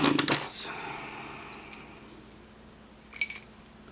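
Keys jangle briefly while being handled during lock picking of a Schlage Primus, a bright metallic rattle at the start with a couple of softer clinks afterward and no talking.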